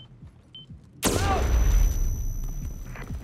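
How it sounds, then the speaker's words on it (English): A sudden loud explosion booms in the Berlin level of the Hitman 3 video game, followed by a rumbling, crackling tail that slowly fades; a man exclaims briefly as it hits. "Someone is setting up explosions."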